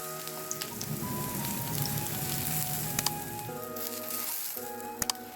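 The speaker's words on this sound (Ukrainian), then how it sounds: "Наливаємо трохи олії і викладаємо наші баклажани. Обсмажуємо їх з обох сторін до золотистого гарного кольору." Eggplant slices fry in oil in a pan, sizzling and crackling steadily up close while a faint tonal hum runs underneath, with a few sharp clicks near the end.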